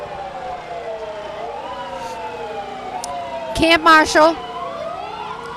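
Wailing emergency vehicle sirens from a rescue squad at a nighttime Christmas parade of lights, rising and falling tones joined by loud blasts of an air horn, while an announcer talks over them.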